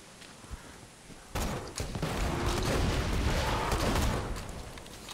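In the video game Borderlands 2, a Torgue machine gun that fires bazooka shells lets loose a sustained burst of explosive rapid fire. It starts abruptly and rumbles loudly and continuously for several seconds before easing off.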